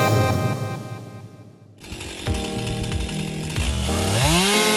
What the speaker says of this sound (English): MS-261C operates powerfully, its sharp chain effortlessly slicing through the massive tree trunk.